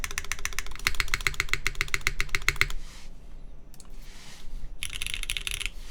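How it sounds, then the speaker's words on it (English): Mechanical keystrokes on a KBDfans Tofu60 keyboard with Red Alert switches and no accent row: a fast, steady run of close clicky-thocky presses for about three seconds, then a pause with a few scattered taps and a brief rustle. "Sounds like a keyboard."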